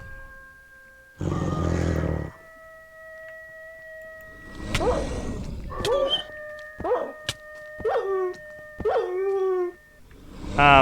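Modded werewolf mobs in the Minecraft game Howling Moon Rising, heard as loud growls, barks and several rising howls, arriving in bursts with short pauses between them.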